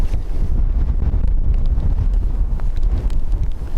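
Strong wind at Dublin Airport buffets the microphone in a steady, rough roar with gusty fluctuations throughout.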